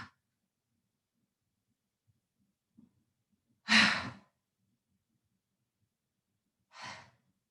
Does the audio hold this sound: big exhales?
yes